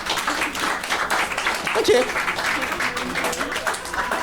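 A room full of people claps in response to a show-of-hands style poll at a French-language stand-up comedy performance, a moderately loud, steady burst of applause with a brief spoken word over it.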